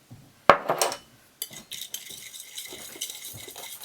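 Green egg tempera paint being mixed by combining pigment with an equal amount of binder: a sharp clink at the start, then light scraping and soft tapping of a tool stirring against a hard surface, close and intermittent.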